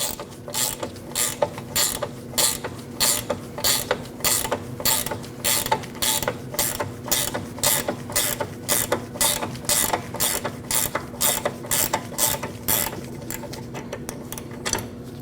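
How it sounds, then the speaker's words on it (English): A ratcheting wrench on a 15mm nut clicks in a steady, rhythmic series of close, crisp ticks while loosening a rear sway bar link on a Jeep Cherokee, with no talking over the repeated strokes. "you can take a 15mm wrench, slide it over the nut, 5mm Allen, put it onto the key, loosen while holding that Allen until the nut comes off"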